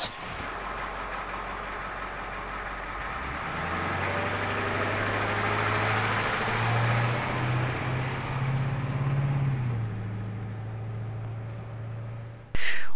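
A cartoon bus drives along with a steady, loud engine drone and a low rumble that holds for several seconds, then cuts off abruptly.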